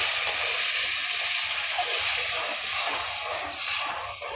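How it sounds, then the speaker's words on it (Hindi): Water poured into hot sugar and halwa in a pan sizzles and hisses steadily, a loud, broad steamy rush that swells and eases slightly without pause. "पानी इसलिए डाला गया ताकि चीनी मेल्ट हो जाए।"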